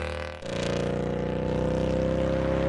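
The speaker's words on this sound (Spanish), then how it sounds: "Una vez que el pedido estuvo listo, un muchacho salió a entregarlo en su motocicleta." A motorcycle heading off to deliver a restaurant order, its engine starting up with a sharp onset, then holding a steady, loud drone with a strong low hum that continues throughout, with no talk.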